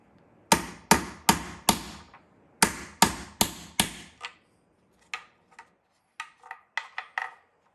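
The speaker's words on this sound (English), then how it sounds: "Use a blunt object and give it a good whack." Repeated hard whacks with a blunt object knocking out the dishwasher inlet dowel on a Waste King garbage disposal: two quick bursts of four or five sharp, close strikes, followed by scattered lighter taps.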